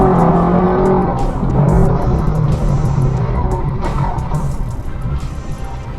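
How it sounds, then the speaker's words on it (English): A car loses control on a road, its tires skidding and squealing loudly for several seconds before it hits the sidewalk, with a roaring engine under the skid. "The car loses control, skids, and hits the sidewalk."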